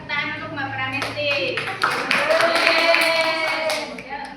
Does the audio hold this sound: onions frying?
no